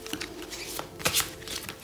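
Oracle deck of unicorn cards being cut and shuffled by hand for a tarot-style reading, a quiet, close papery riffle with soft flicks and one brighter burst of card noise midway.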